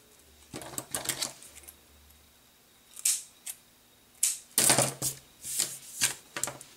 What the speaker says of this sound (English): So I'll use my hole punch and make little notches.